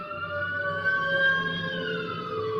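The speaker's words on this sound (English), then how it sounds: "Oh, a fire truck." A fire truck siren wails steadily, its rising and falling tones sounding from outside at moderate distance, with no talking.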